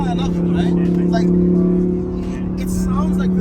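Supercar with a factory straight-pipe exhaust drives by with a loud, steady droning exhaust note throughout, someone talking over it the whole time.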